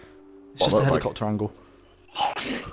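A single sharp sneeze bursts out near the mic, set among people chatting during a sim racing stream.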